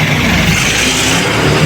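Car engine running steadily and loud while the car is being pulled in, a continuous broad roar with no talk over it.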